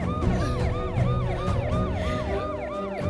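An ambulance siren wails in repeated rising and falling sweeps, loud and close, steady across the whole stretch with a low rumble of traffic beneath it and no voices.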